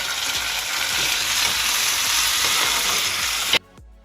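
Chopped tomatoes land in hot oil with browned onions and whole cumin in a pan, giving a loud, steady sizzle and frying crackle that stops abruptly near the end.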